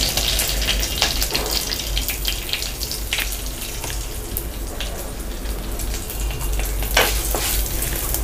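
Mustard seeds and asafoetida sizzling in hot oil, a continuous hiss with scattered sharp pops and crackles from the seeds, close and fairly loud, no voices.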